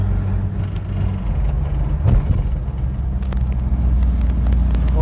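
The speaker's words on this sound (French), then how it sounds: "j'espère que vous entendez quand même un peu le bruit du V8" A V8-engined car runs steadily close by, a continuous low rumble that stays loud and even throughout, with a brief swell of engine noise in the middle and no voices.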